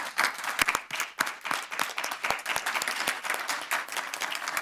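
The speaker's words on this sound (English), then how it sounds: "thank them with a round of applause" A crowd at a candidate forum applauds warmly, many hands clapping at once in a dense burst that holds steady for several seconds.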